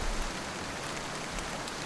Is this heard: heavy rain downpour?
yes